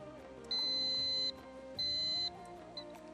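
Quiz show buzzer pressed during a televised quiz competition: two sustained high electronic tones, each about three-quarters of a second, followed by a short faint third blip, over a quiet background hum.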